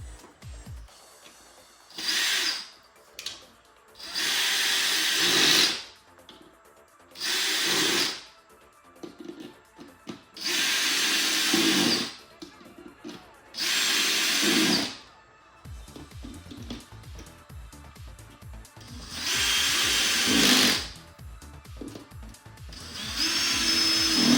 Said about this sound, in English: after you've placed all the screws in for all 9 panels, you can screw them in.